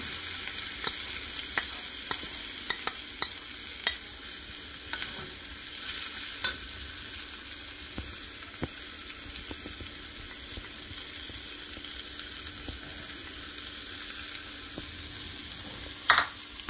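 Onion frying in hot oil seasoned with asafoetida, turmeric and chili powder for a spicy yogurt raita tempering; a steady, close sizzle runs throughout, broken by scattered stirring clicks and a louder scrape near the end, with no talking.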